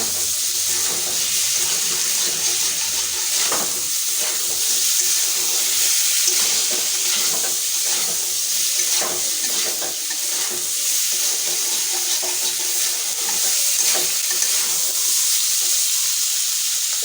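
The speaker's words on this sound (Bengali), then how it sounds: "লবণ হলুদ মাখা চিংড়ি মাছগুলো দিয়ে দেব একসঙ্গে ভালো করে কষিয়ে নেব" Turmeric- and salt-coated prawns fry in a pan, producing a loud, continuous sizzle with steady crackling and occasional stirring scrapes throughout.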